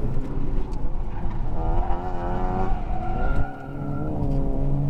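An Integra on RE71R tires and Fortune Auto coilovers slides sideways through a track turn, its tires squealing in a sustained wavering tone over loud engine drone as it powers out.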